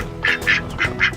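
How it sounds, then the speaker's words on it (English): Ducks on a farm give four loud, close, nasal quacks in quick succession, spaced about a quarter second apart, with no one talking. "But we got 7 new ducks."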